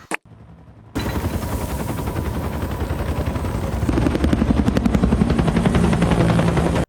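A helicopter's rotor in the TV series Chernobyl thuds in a steady rapid chop, loud and close, growing heavier partway through after a brief sharp knock at the start.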